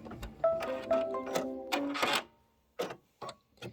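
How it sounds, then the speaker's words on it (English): An embroidery machine stitches a satin outline on a vanilla ice cream block for a bench pillow, its needle running in quick mechanical bursts with rhythmic ticking between short pauses, fairly close and fading to a few isolated taps. "that was step number 3, which is stitch the vanilla ice cream satin outline"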